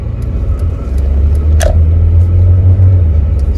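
A car pulls away in first gear on a fast road, its loud low engine rumble holding steady and close throughout, with one brief higher whine partway through.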